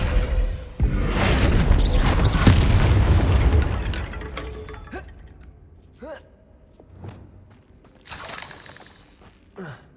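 A Descendo spell cast in the video game Hogwarts Legacy slams down with a loud, heavy boom and crashing rumble lasting several seconds, followed by fainter creaks, clatters and a later sharp burst.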